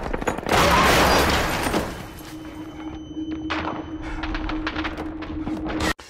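Explosion and gunfire sound effect from the Iron Man film: a loud blast with dense crackling bursts for about two seconds, then a sustained ringing tone under scattered sharp impacts until a final cut-off.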